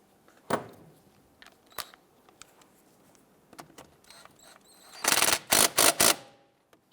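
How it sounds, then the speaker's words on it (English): Tools working on a bolt and nut at the wheel hub of a 2012-2017 Toyota Camry: scattered metallic clicks and clanks, then a close, loud cluster of rapid ratcheting bursts near the end. "I'm going to put our bolt through and put a nut on the other side, and we'll go ahead and snug that down."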